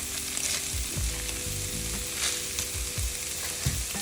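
Strips of fajita steak sizzle loudly in a hot pan as they are stirred around, the steady crackling frying broken by scraping strokes of the utensil, close and continuous with no talking.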